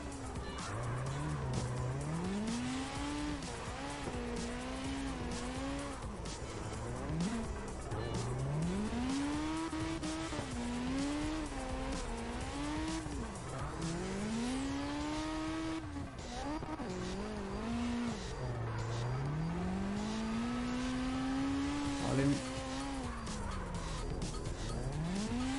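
A Wellington S20 car drifting in CarX Drift Racing, its engine rising and falling in repeated revving sweeps with steady tire squeal underneath, loud and continuous throughout.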